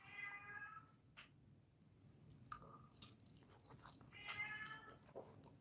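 A house cat meows indoors, with harmonic cries near the start and again near the end and softer noises between them, heard fairly close against low room noise.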